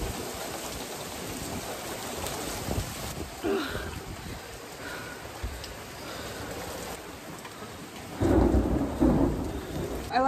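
Heavy rain pours steadily throughout, with low rumbles of thunder building and a louder thunder roll swelling near the end of the storm.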